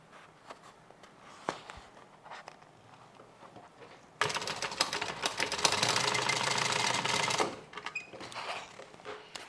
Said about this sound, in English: I'm stitching using about a 1/2 inch seam allowance here